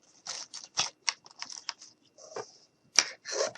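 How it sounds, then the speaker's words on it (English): Scissors snipping small pieces off painted pine cones for a Christmas window pane decoration, a run of quick, crisp, close cuts with short pauses and a sharper snip near the end, no talking. "cut some more of these little pieces off"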